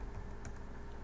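Rapid keystrokes on a computer keyboard as a command is typed into a CentOS 7 terminal, a quiet, close, continuous patter of clicks with no talk.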